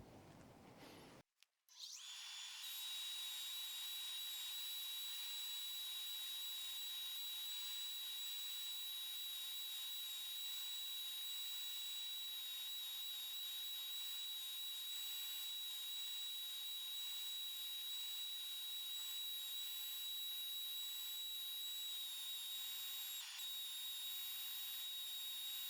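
A Dremel fitted with a burr runs alongside a dust extractor while a hex-drive pin chuck handle is being made, giving a steady, high whining hum that starts after a brief knock and continues unbroken at an even level.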